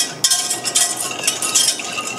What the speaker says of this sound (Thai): ค่อยๆเติมกะทิลงไปนะคะแล้วก็อีกมือนึงก็ต้องคอยคนด้วยนะคะ